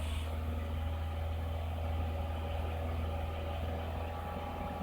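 A Toyota Kluger engine with a hard-start misfire is held at raised revs, around 2500 RPM, giving a close, steady, even hum with no speech.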